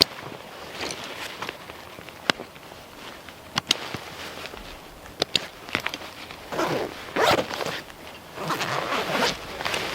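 The main compartment zipper on an Aston House BC Pack backpack is pulled open in several quick, close rasping strokes, with brief pauses and a longer run of zipping toward the end.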